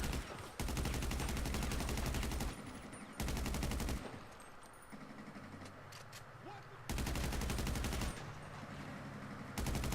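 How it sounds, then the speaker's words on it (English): Special carbine rifle fire in GTA 5 with no attachments, long sustained full-auto bursts that stop and restart in loud blocks, separated by quieter gaps of game ambience. "So the next gun is the special carbine, yet again without any attachments or anything like that."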